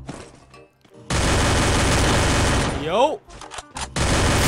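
Submachine gun fire in the shooter game Free Fire: a long, dense burst of rapid shots, a brief pause, then another burst starting, with a short spoken word early on.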